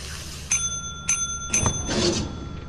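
A small bell in the video game Lethal Company rings three times at even intervals, bright and close, followed by a rougher clatter of movement with no voices.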